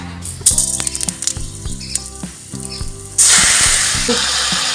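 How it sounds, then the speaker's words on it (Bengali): Greens hit hot oil tempered with asafoetida and whole spices after a few clanks and taps, breaking into a loud, steady sizzle that carries on to the end. "কুমড়োর তরকারির পর হিং আর ফোড়ন দিয়ে শাক ভাজাটা বসিয়ে দিচ্ছি।"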